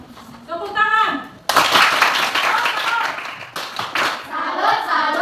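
A school class claps hands together in a classroom, bursts of dense, close applause that start abruptly, pause briefly and resume, with a teacher's voice heard before and between the clapping.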